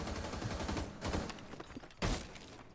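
A pre-placed explosive charge goes off in a competitive Rainbow Six-style match between FURIA and Team Liquid, a sharp loud blast near the end amid continuous game noise and gunfire-like clatter.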